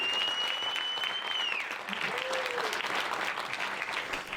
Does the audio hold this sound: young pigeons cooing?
no